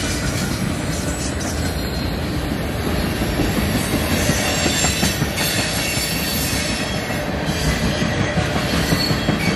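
A fast eastbound mixed freight led by CN locomotives, with hopper cars rushing past close by in a continuous loud roar, wheel clatter and squealing steel throughout.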